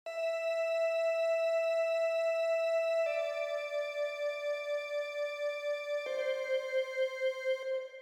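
Synth backup melody from a flex preset in an electronic dance drop: bright sustained tones stepping through a few held notes, clean and alone, with no voices.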